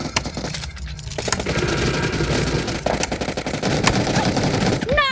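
Rapid automatic gunfire in the mobile battle royale game PUBG Mobile, dense bursts of shots crackling almost continuously with a brief lull near the start, while players talk over the action.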